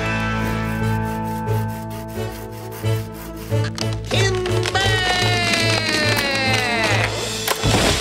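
Cartoon sawing as logs are cut down from a tree in an animated children's show, a steady rubbing, rasping wood sound running under a busy musical score with rising tonal sweeps, clear and continuous for several seconds.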